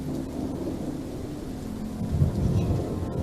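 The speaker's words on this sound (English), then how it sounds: "Freaking thunderstorms right now." Steady rumbling thunderstorm in the video game The Walking Dead: Saints & Sinners, with rain hiss and a low thunder roll swelling near the end, continuous with no talking.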